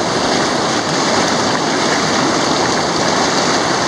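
Whitewater river rapids pour over rocks in a constant, dense roar of rushing water, loud and close throughout, with no voices.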